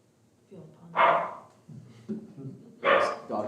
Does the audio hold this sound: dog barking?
yes